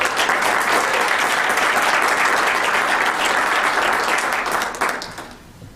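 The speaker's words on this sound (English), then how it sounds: "One more round of applause for" People at a county commission meeting give a round of applause, dense and steady clapping from a roomful of hands that holds firm, then tapers off quickly near the end.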